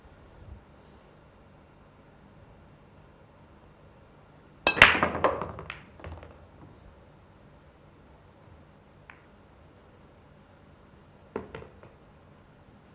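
On a pool table at a Predator Championship match, the cue ball smashes into the rack on the break, a loud clattering burst of ball clicks scattering and fading. A few softer knocks follow later in near silence.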